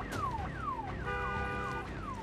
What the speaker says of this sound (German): Immer diese Alarmanlagen.